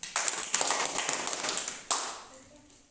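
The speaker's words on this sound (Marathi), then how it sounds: "वाजवा टाळ्या." Children in an English-Marathi classroom clap their hands together, a dense run of quick, sharp claps over about two seconds, then a final burst that trails off.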